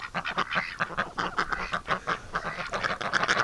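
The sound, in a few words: ducks quacking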